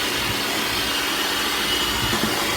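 An electric mixer beating egg, vanilla and orange extract into butter for cranberry white chocolate chip cookie dough, a steady close whirring drone with no pauses.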